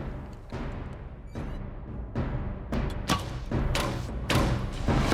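An ancient Greek-style repeating arrow machine fires arrows into targets, giving a run of heavy thuds and sharp impacts that grow denser and louder toward the end. No voices.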